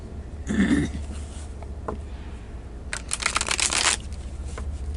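Tarot cards are shuffled by hand, with a quick riffling burst at the start and a longer flurry of crisp card flicks later, close and moderately loud.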